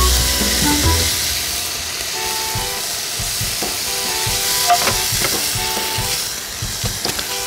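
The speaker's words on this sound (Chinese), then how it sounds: "培根你就把它煎得稍微焦焦的哈" Bacon frying in a pan until slightly crisp, a loud close sizzle with crackling pops and scraping stirs or turning clatter scattered through, continuing steadily with no talking.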